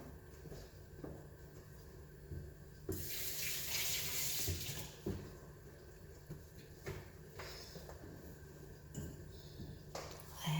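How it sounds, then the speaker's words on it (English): A kitchen tap runs as hands are washed mid-way through making pulled-pork samosas. A steady, close hiss of water swells for a couple of seconds, with light clatter and splashing around it, and no voices. "Let me wash my hand."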